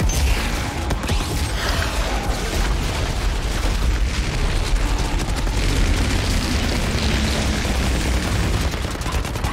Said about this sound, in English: Not helpful with all the fire bombarding.